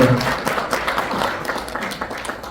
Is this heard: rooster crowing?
no